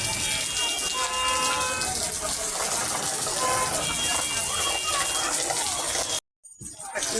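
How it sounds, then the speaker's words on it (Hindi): Heavy rain pours down at a vegetable market near Digha Ghat in Patna, a dense, continuous hiss with traffic horns tooting through it, before the sound cuts out briefly near the end. "बहुत तेज बारिश हो रही है।"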